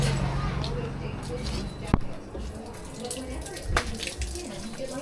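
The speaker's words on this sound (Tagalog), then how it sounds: "Kaya buhusan muna natin saglit." Water is poured over muddy feet to wash off the mud, splashing and trickling in short bursts under a voice talking nearby.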